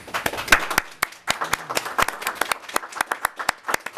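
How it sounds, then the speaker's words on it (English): Office staff at a council meeting clap steadily, with crisp individual claps from a small group in a quick, slightly uneven rhythm that stays fairly loud and close throughout. "That clap from the staff means a lot"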